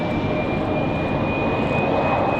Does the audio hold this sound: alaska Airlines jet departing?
yes